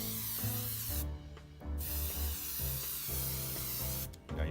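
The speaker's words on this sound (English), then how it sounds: "you want to spray it on at a distance and you want to cloud it on" An airbrush spraying a Mission Models flat clear coat from a distance gives a steady close hiss in short bursts with brief pauses, under a hum from the compressor.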